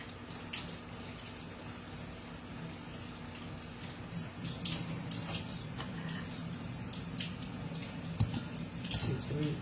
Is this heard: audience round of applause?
no